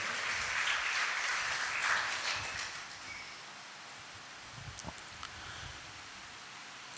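Faint, distant audience applause at a priest's birthday celebration in a church gathering, clapping loudest over the first two seconds and then thinning out into quiet room noise with a few scattered claps.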